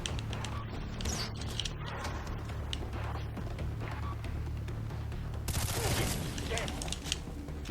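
Bursts of gunfire crackle in Far Cry 3 gameplay, a rattle of shots under a steady background drone, ending in a sharper, louder shot near the end.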